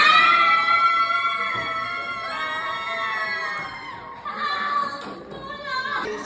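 Many children shout and cry out together in a lively crowd, with loud overlapping high-pitched voices that stay strong throughout and a few scattered thumps.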